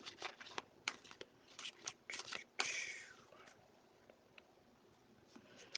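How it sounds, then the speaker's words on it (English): A deck of cards being shuffled close by, a run of quick riffling flicks and snaps that ends in a longer riffle, then quiet. "I'm gonna go ahead and shuffle these back up."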